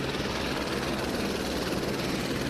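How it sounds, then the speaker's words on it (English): Steady, loud helicopter rotor and engine drone holding evenly throughout as the aircraft comes down in a parking lot behind a building, no voices heard. "It looks like the helicopter is landing here in this parking lot."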